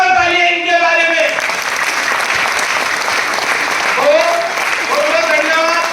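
Hall audience at an RCM business meeting in Aurangabad applauding loudly and steadily for the housewives in attendance, with a voice speaking briefly at the start and again near the end.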